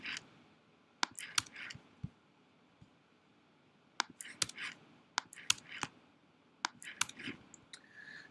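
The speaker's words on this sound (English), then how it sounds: "Just doing that with the keyboard." Computer keyboard keys pressed while editing a traced drawing in Illustrator, heard as quiet, sparse, irregular clicks in small clusters against a near-silent room.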